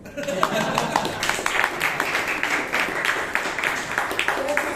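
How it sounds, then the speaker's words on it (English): An audience at a Toastmasters meeting in Bangalore bursts into brief, lively clapping that fills the room, mixed with a talking voice and some laughter. "They even clap for a poor joke like this."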